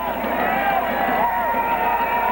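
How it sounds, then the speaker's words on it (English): A crowd at a high school football game between Central and Simpson in 2000 keeps up a steady roar of noise, with a voice talking over it. "The Central crowd making the noise on the near side."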